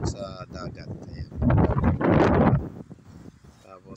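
Strong wind gusting at a cove by the sea, roaring in loud bursts and buffeting the microphone, with someone talking over it before and after the strongest gust.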